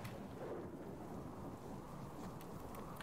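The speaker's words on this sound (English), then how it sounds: "running at night in the rain is particularly shitty" Steady heavy rain with a low rumble of thunder at night in the survival video game Subsistence, a dense, continuous wash of sound with no voices over it.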